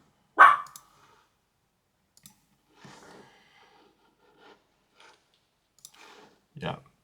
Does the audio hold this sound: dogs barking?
yes